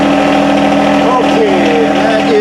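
A John Deere 1025R compact tractor engine idles steadily at a little over 1,500 RPM, a loud, even mechanical hum running throughout with faint voices underneath.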